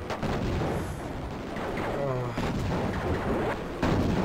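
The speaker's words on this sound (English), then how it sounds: "Bombs." Bombs exploding in the top-down shooter Raptor: Call of the Shadows, a continuous roar of rumbling blasts with game effects layered over it and a fresh loud burst near the end.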